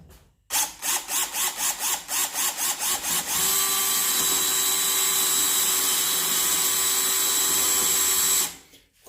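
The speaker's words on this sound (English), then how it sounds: "I'm going to drill this wall using an 8 mm. First gear," A Parkside PBSA 12 C2 cordless drill with an 8 mm bit bites into a wall in first gear, starting with a rapid series of short pulsing bursts, then running in one continuous loud whine before stopping.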